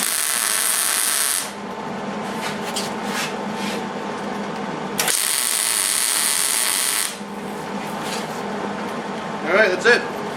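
Welding on zinc-coated galvanized metal for a sign in an open shop gives two steady, loud bursts of hissing arc crackle, each a few seconds long, separated by quieter stretches of shop noise, with a voice briefly at the end.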